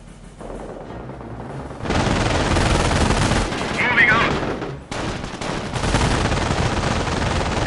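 Small arms fire in Company of Heroes during the Oosterbeek mission, loud rattling bursts of rifle and machine-gun shots crackling almost continuously, rising after a quieter start with a brief lull near the end.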